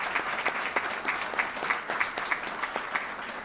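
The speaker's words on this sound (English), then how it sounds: "Let's give a round of applause to Adam Bello." Audience applause at a Project Exile breakfast on violent crime, a brief dense patter of many hands clapping at close range, steady and lively for a few seconds with no speech over it.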